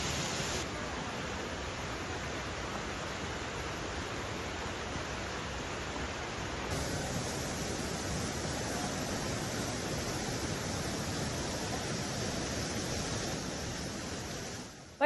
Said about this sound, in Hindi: झरने से बहते हुए पानी का बहाव इतना तेज है कि मंदिर की सीढ़ियों पर पानी भर गया है।